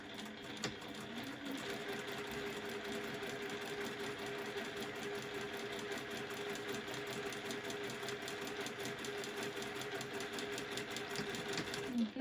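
A Juki sewing machine stitching a seam on a fabric face mask in a workshop, running continuously at an even, rapid needle rhythm for the whole stretch, close and steady with no talk.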